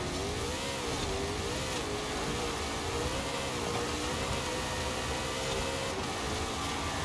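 A Ford Raptor R's engine accelerates in Forza Horizon 5, a steady, loud drone whose pitch climbs and wavers without letting up through the whole stretch, with no voices over it.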